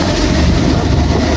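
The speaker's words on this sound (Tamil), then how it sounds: "கொஞ்சம் நிலக்கரி ட்ரெயின் தான் இருக்குது." A coal train passes nearby in a brief, loud, steady rumble of rolling wagons, with no voices over it.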